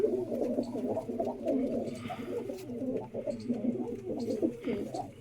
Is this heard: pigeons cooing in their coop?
yes